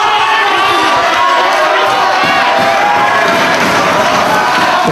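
A wrestling arena crowd at a Ring of Honor show roars and chants continuously, a dense, loud wall of cheering voices that stays steady throughout.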